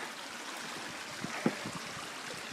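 A river on the Manistee River Trail flows steadily as a soft broadband wash, with a few faint splashes and gurgles near the bank, no talk.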